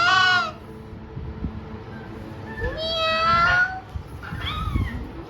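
A child imitates a cat's meow with several drawn-out, rising meows, close and clear, broken by short pauses and quiet background sounds.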